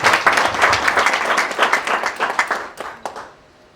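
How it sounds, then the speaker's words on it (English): Applause at an awards ceremony, a crowd of people clapping fairly close. Individual claps are distinct in an uneven rhythm and thin out toward the end as the clapping dies away. "A big hand of applause for them."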